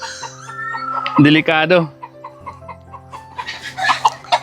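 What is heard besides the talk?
chicken clucking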